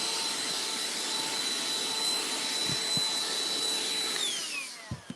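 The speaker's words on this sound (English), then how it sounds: "I get this piece done and I just vacuum it" A vacuum cleaner runs steadily and loudly over a stuffed toy piece during a cuddle critter demo, its whine holding a constant pitch before dropping as it switches off near the end, followed by a couple of soft knocks.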